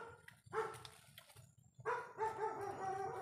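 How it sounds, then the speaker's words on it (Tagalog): Faint, distant dog barks come through outdoor background noise, a couple of short bursts followed by a longer stretch of yapping. "May aso na andito."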